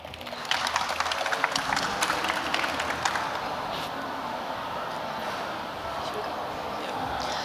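An audience applauding at an AI pitch competition, dense clapping strongest in the first few seconds, then settling into a softer, continuous patter.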